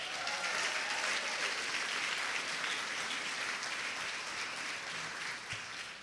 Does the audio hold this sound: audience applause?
yes